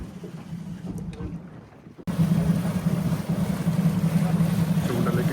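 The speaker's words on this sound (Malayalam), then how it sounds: "ബോട്ട് സ്റ്റാർട്ട് ചെയ്തു കേട്ടോ," A fishing boat's engine at sea starts after a quieter stretch with some wind, then settles into a loud, steady, close drone with a low hum that keeps running to the end.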